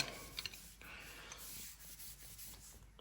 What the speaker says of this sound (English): we'll give these another clean, stone these off very lightly